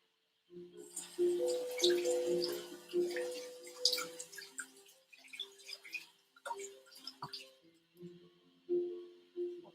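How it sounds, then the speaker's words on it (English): Tap water runs in a kitchen sink while food is rinsed under it, splashing and dripping in irregular bursts, close by, with no talking. "let me rinse this off."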